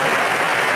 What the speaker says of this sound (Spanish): Aplauso para el hermano.